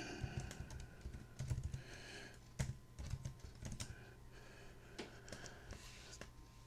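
Computer keyboard typing while entering commands to set up Direwolf APRS software on a Raspberry Pi, heard as quiet, irregular clusters of soft key clicks spread across the whole stretch with no voice.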